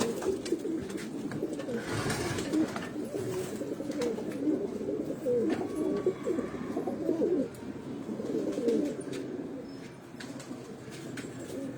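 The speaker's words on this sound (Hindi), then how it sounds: "ये देखें, ये वो चपड़े कबूतर जो कबूतर ऊपर उड़ा है" Chapra pigeons coo continuously at a breeder's loft, a dense low murmur of many birds close by, with a brief burst of wing flapping early on.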